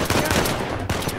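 Gunfire in Uncharted 4: A Thief's End, a handgun firing in a dense burst of repeated loud shots over a thick game soundscape, with a brief gap before a final crack.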